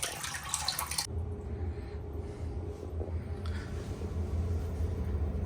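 Clear water flushing out of a radiator heating system during a powerflush on a boiler installation, a steady close splashing and running flow, with a brief louder gush at the very start.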